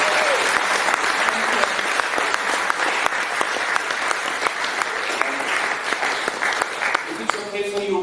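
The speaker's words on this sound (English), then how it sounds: "please give a big applause" An audience claps loudly and continuously in a sustained round of applause after a live talk event.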